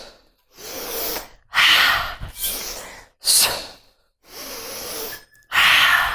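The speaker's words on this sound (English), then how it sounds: "You can do a double exhale, breathing out in both directions" Forceful, breathy exhales during steel mace squat exercise, several sharp bursts of breath in an uneven rhythm with short silent pauses between, close and fairly loud with no talking.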